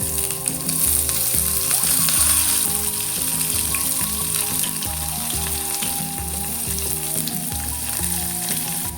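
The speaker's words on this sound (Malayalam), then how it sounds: "ഇനി ഇതിലേക്ക് വെളുത്തുള്ളി, ഇഞ്ചി, കറിവേപ്പില ചേർത്ത് ഒന്ന് വഴറ്റാം." Garlic, ginger and curry leaves sautéing in oil in a pan, a loud, dense, continuous sizzle with spatters and stirring, close and steady throughout.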